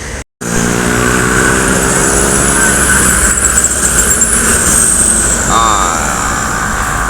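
A Mercedes-Benz OH 1626 bus engine drones steadily nearby after a brief cut at the start, a continuous low hum under light background noise with faint talk.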